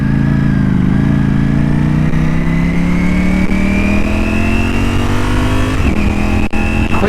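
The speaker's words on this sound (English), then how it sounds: "Quick shifter is so smooth, and down as well, which I'm not used to." A motorcycle with a quick shifter accelerates hard close by, its engine note climbing steadily, then it snaps through a fast gear change near the end, loud and steady with no talk.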